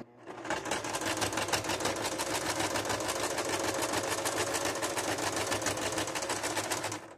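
A sewing machine fitted with a hemming presser foot runs a continuous, fast, even stitching rattle close by with no talking.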